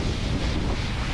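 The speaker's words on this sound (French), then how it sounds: "Cascade" Broad, steady rushing roar of a waterfall pouring down from Lake Melo in snowy Corsican mountains, loud and continuous with no break.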